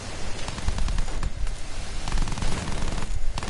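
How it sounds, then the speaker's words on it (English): Rapid anti-aircraft gunfire in Battlefield 1, a dense continuous barrage of bursts and booms that stays loud throughout with no pauses. "I got the AA gun on me"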